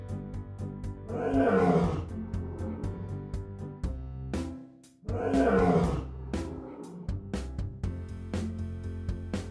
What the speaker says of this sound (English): Lions are the king of jungle. They can roar and can be noisy.